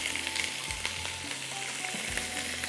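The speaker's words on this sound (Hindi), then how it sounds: "बस इसको मक्खन के साथ हम फ्राई करेंगे इस तरह से" Kebabs frying in butter in a pan, giving a steady close sizzle with occasional crackles and scraping stirs, with no voices.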